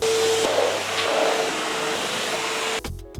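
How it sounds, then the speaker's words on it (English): A vacuum cleaner running indoors, a steady loud whooshing drone with a constant tone that cuts off sharply near the end, close by with no talking. "let me vacuum first, because this is disgusting"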